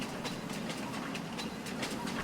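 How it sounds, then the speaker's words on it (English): A freight train in the farming video game Farming Simulator 25 rolls backwards with a steady rumbling drone and faint rhythmic rail clatter, moderately close and continuous throughout. "there's our choo-choo train, going backwards"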